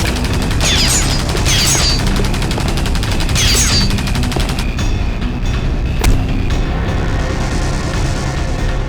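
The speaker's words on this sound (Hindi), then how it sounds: "बहुत हो गई तेरी गोलीबारी" Sustained rapid gunfire in a dramatic action scene, loud and dense bursts of machine-gun style shots continuing throughout with a few sharper impacts near the end.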